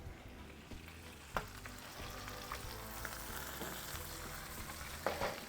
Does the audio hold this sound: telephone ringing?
no